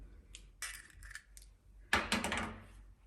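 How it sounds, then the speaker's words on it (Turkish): An egg is cracked on a bowl edge and dropped into flour for manti dough in a home kitchen: several light taps, then a sharper crack with a brief wet spill, close and quiet, with no talk. "Şöyle yumurtamızı kırıyorum."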